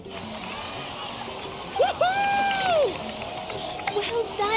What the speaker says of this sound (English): Let's give a huge round of applause to our brave young warrior, Kachina!